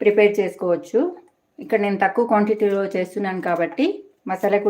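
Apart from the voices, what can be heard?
None of the usual background noises is heard.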